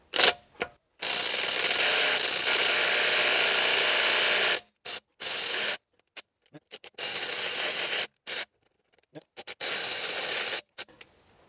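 Villager VLP 5320 cordless impact driver running on a 4 Ah battery: one long, loud, close whirring run of about three and a half seconds, then several shorter bursts and brief trigger blips separated by silence.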